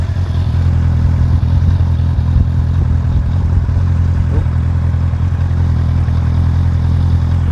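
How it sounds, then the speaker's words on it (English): A 2019 Honda CBR650R motorcycle idles steadily and close by, a low continuous rumble from the stock exhaust with no revving and no voices. "So you can hear the exhaust as it's sounding."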